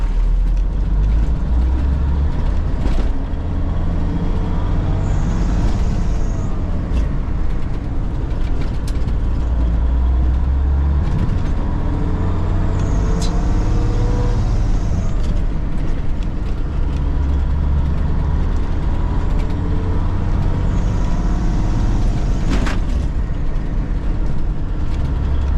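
An International Transtar II 290 truck with a Cummins diesel engine drives along, its low heavy engine droning steadily from inside the cab with occasional high squeals and rattles.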